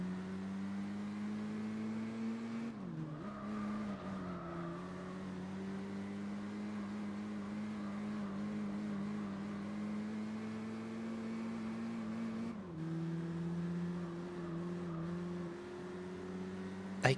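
Race car engines from Gran Turismo 4, including a 3.2 liter V6 Golf against an Audi S3, drone in a steady, faint hum with two brief shifts in pitch as gears change.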